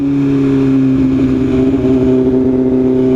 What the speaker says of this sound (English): Yeah, that's a new Ferrari.